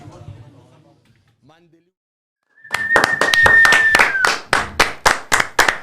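Clapping breaks out as a football coach's press conference closes, following faint talk and a near-silent pause; sharp close claps start together, then slow into a few loud separate claps, with a short whistle mixed in.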